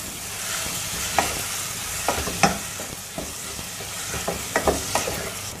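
Spices and yogurt stirred together in a hot pan for quick tawa rice: a steady close sizzle with irregular scraping stirs and occasional louder spatula knocks against the pan.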